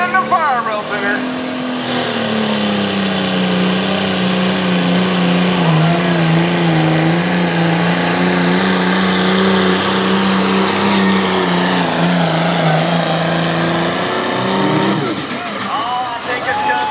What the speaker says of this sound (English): starting to bring up the RPMs